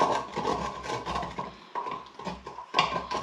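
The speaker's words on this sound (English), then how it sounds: "get your trusty wooden spoon out and scrape up all those tasty bits off the bottom of that pot" Wooden spoon scraping the bottom of an Instant Pot pressure cooker to loosen browned bits after pork loin is seared, a close, continuous rough rasping with short pauses and no talk.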